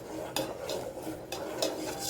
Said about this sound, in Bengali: এই যে দেখেন দুধটা নাড়াচাড়া করতে হবে।